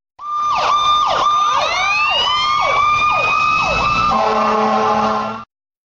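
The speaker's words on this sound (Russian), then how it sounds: "Замечательно! Пожарная машина." Fire engine siren wailing in rapid repeated sweeps, loud and close, then switching to a steady multi-tone blare before stopping abruptly, with no talk.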